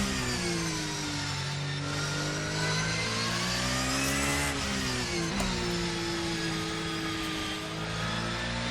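Porsche 992 GT3 R race car in Assetto Corsa, engine loudly revving high and rising and falling through the rev range, a strained, buzzy tone that sweeps up and dips in repeated pulls without talk.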